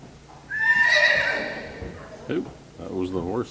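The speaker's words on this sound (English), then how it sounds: "Oop, that was the horse." A horse whinnies loudly at a Lions club horse show, a clear rising-and-falling neigh lasting about a second near the start, followed by a few brief noises and a voice speaking at the end.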